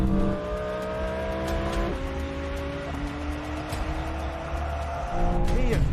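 A BMW M3 CS Touring and an Audi R8 GT V10 accelerate hard, with engine tones climbing through several gear changes and a brief tire squeal. The sound is loud and sustained.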